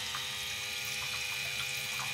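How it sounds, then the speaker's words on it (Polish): Water from a small 1.5 bar off-grid pump on Sicily runs into a sink in a steady, close, continuous low-pressure trickle, with no talk over it. "O, i woda coś tam leci."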